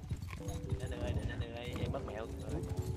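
Horse hooves clip-clop at a fast, steady trot in the medieval game Mount and Blade Bannerlord, dense rhythmic thuds mixed with game ambience and a voice talking over them.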